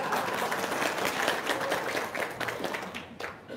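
Audience applause at a spoken talk: dense, steady clapping from many hands fills the whole stretch, fairly loud and close, easing slightly near the end.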